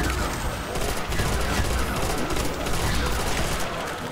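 Continuous, dense gunfire in the Call of Duty Nazi Zombies video game on the Nacht der Untoten map, a loud, steady rattle of overlapping shots with no pauses, heard up close throughout.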